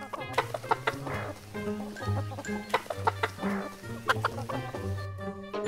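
A cartoon chicken clucks repeatedly in short rhythmic bursts, close and clear over a light background score in an animated Vietnamese folk tale.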